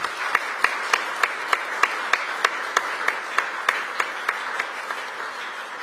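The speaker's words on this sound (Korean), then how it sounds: "큰 박수로 환영을 부탁드리겠습니다." An audience of Korean residents in Belgium applauds to welcome the president and first lady, a steady bed of applause with one person's loud, evenly spaced claps ringing out close by.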